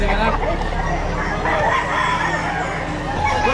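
A rooster crows nearby at a chicken market in Batangas amid a busy background of voices and chatter, with clucking fowl mixed into the noisy scene.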